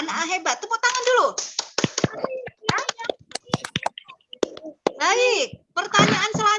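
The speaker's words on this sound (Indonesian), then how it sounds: "Tepuk tangan dulu." Children in a classroom clap their hands in short bursts of sharp claps and taps, mixed with young voices chanting and speaking between the claps.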